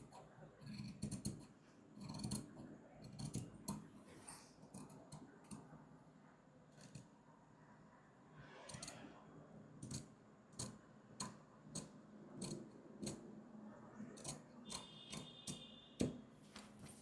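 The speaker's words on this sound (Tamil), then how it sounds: "இப்போ இதை வந்து கட் பண்ணி எடுத்துடலாம். நான் இந்த லைனில் தான் கட் பண்ணுறேன்." Scissors snip through blouse fabric along a marked cutting line, giving a steady series of sharp, close clicks and crunches with short gaps between cuts and no talking.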